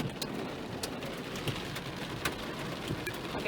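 Rain during a severe storm, a steady patter of raindrops hitting surfaces with scattered sharper drips, moderately faint and continuous with no talking.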